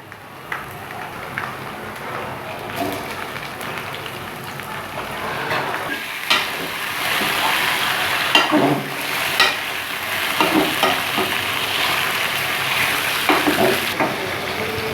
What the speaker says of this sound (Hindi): अब हम इसको फ्राई करेंगे जब तक इसका रंग वाइट ना हो जाए।